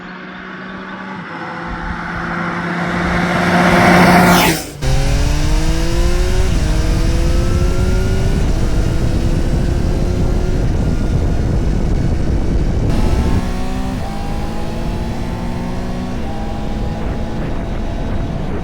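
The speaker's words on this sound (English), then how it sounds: "the sound for me has got to be one of the best sounding bikes on the market" A 2026 Triumph Trident 800 triple-cylinder motorcycle being ridden, loud engine and exhaust rising through the revs, a sharp gear shift, then repeated accelerations with climbing pitch through further gears, close and continuous.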